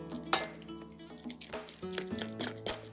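Food fries in coconut oil with a soft, close sizzle, broken by a few light utensil clinks and stirring knocks against the pan. No one speaks.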